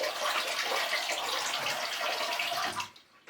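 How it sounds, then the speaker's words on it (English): Cold tap water splashes steadily into a sink for a rinse after shaving, a loud, close, continuous gush that cuts off near the end, leaving a few faint drips. "So we are going to have a quick splash of cold water,"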